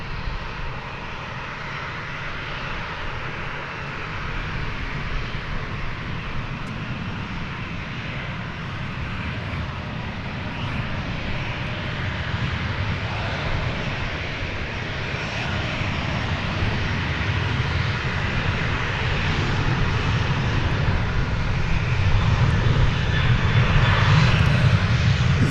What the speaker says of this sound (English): Here comes American Flight 1091 from El Paso, Texas. It's a 737-800.